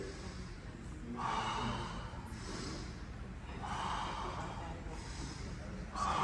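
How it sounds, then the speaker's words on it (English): Audible breaths draw in and out during a gentle health and wellness exercise class, two rushing inhalations rising over a low background hum, heard close to the microphone. "I breathe in"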